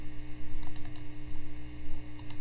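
Someone types on a computer keyboard, a steady patter of close keystrokes over a low background hum, with no talking.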